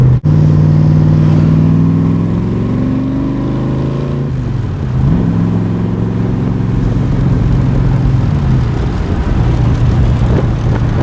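The engine of a 1965 Backdraft Cobra with a five-speed overdrive gearbox drones loud and close while cruising at about 55 mph and 1500 RPM, a steady low hum that dips briefly then settles again.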